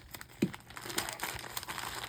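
Plastic packaging bag, folded over itself many times, crinkling as it is sliced down the middle, with a steady close rustle and a sharper crackle near the start.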